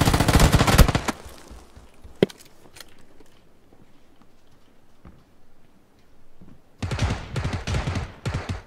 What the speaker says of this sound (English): where the fuck is he shooting me from?